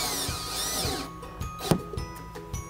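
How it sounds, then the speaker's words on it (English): A power drill whines at high speed for about a second as it drills into the body of a 2011 Jeep Liberty, then stops, followed by a few clicks and light knocks close by. "Go ahead and make our mark here and drill right into it."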